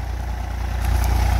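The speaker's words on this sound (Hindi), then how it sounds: "बाकी अगर देखा जाए तो बहुत स्लोली खींच रहा है ट्रैक्टर।" A 939 FE tractor engine labours while pulling a cultivator deep through a field, giving a loud, steady, close low drone with a throbbing pulse and no voices.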